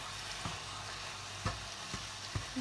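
Browning meat sizzles steadily in a pan seasoned with salt, cumin and garlic, a close, even crackle broken by a few soft clicks of stirring.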